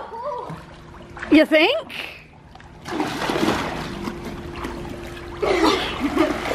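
Water poured out and splashing at a backyard swimming pool, with bursts of pouring and splatter between excited shouts and laughter from children and adults talking over it.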